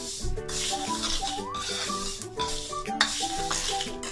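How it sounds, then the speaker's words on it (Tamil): Jaffna-style spice mix being dry roasted in a pan on a low flame, with bursts of scraping and stirring against the metal and soft rattling of the grains, while tonal background music plays throughout. "இதை இனி நீங்கள் நல்ல மெல்லிய நெருப்பில் வச்சு வறுக்க வேணும்"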